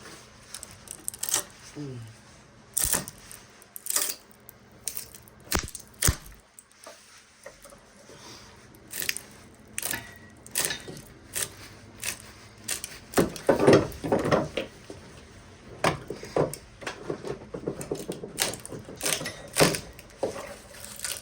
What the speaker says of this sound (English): So, I got my big cutters here. See if we can't cut it in half.